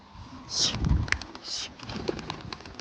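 Pigeons in a loft making soft low coos and quick bursts of wing-flapping, with a couple of sharp flutter rushes and scattered clicks, close and moderately loud, with faint background talk.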